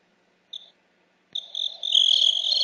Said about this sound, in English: I'm hearing some crickets.